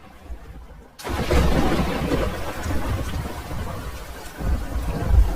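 A cartoon thunderstorm breaks in with a sudden rumble of thunder over steady heavy rain, the roar swelling again near the end.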